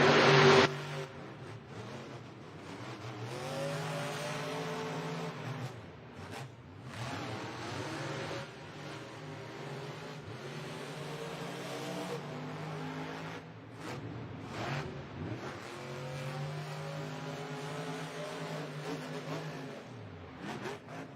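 Monster trucks El Toro Loco and Jurassic Attack race in a stadium event, their engines roaring and revving loudly and continuously with repeated throttle surges and drops under crowd and arena din.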